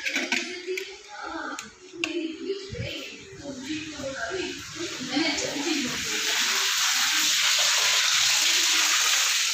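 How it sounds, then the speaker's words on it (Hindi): Tap water gushes hard into an already full bucket, a loud steady rush that takes over after a stretch of voices talking over kitchen clatter. "देखो कितना तेज पानी,"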